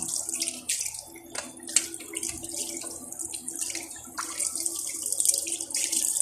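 Water runs from a tap in a steady hiss, splashing into a basin nearby with a few brief clinks.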